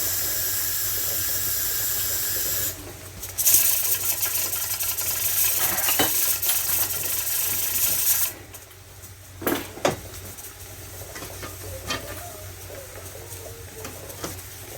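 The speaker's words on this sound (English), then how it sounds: "Wash the stickiness from the pan." Greasy pan left from browning ground beef being washed in a sink, running tap water hissing, then stopping, followed by scattered clanks and scrapes of the pan against the sink.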